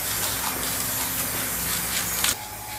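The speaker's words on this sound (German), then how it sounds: "Und jetzt sprühen wir es ein." Spray can spraying lacquer onto a window frame, a steady loud hiss in continuous bursts that cuts off sharply near the end, with no talk.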